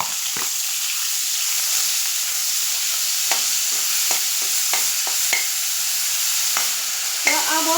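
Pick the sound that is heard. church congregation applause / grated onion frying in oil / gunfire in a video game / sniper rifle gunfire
grated onion frying in oil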